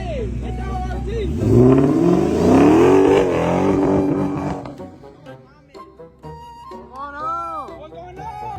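A car with a welded differential revs hard, its engine roaring up in pitch and then falling away, followed by quieter, irregular engine and tire noise; a person talks over part of it.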